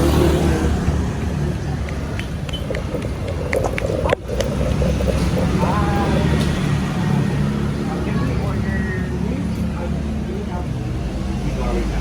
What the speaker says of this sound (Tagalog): Sobrang daming motor dito.